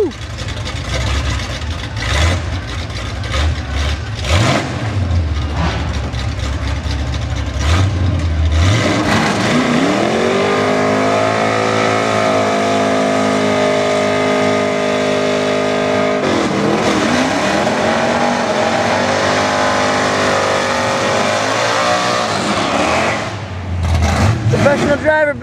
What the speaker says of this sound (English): Driver Bill Deister in stock streetcar with open headers